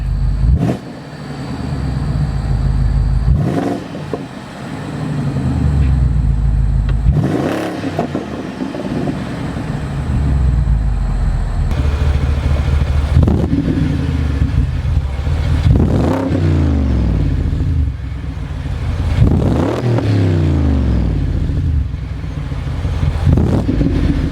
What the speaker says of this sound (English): we'll give it a couple of revs here